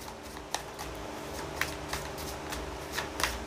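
Tarot cards being shuffled by hand, a soft continuous riffle with small crisp snaps at irregular intervals, close and alone without any talk.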